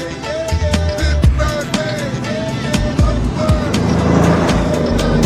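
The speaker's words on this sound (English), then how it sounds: "insert clip here of Fast and Furious when they have the parts truck driving down the road" A parts truck drives down the road in a Fast and Furious movie scene, its engine a loud, steady rumble mixed with tonal, music-like sounds and a few sharp transients throughout.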